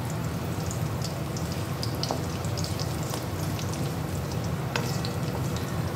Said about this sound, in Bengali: দিয়ে এবার এটাকে আমি ভালো করে ভেজে নেব।